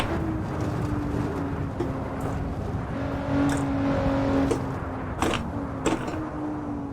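Lotus Exige S in Assetto Corsa on the Nordschleife, engine droning steadily at mid revs with tonal whine as the car slides, a few sharp clicks and bursts cutting in, loud and close with no talk.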